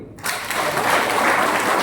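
An audience at a business leaders' meeting in Hubli breaks into loud, sustained applause after a brief quiet start, dense clapping filling the whole stretch without speech.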